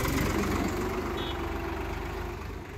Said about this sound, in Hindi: ट्रैक्टर स्टार्ट कर दिया, सलग स्टार्ट